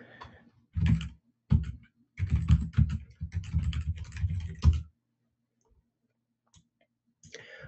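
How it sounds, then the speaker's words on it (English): Rapid keyboard typing in several bursts, clicking keys up close with short pauses between, then near silence. "Can't see what I'm typing, so I gotta."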